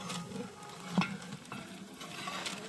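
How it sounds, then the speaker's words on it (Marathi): Papad being fried at a Ganesh Jayanti festival, a quiet continuous sizzle with a sharp clink of a utensil midway. "नक्की काय करतात, पापड तळतात"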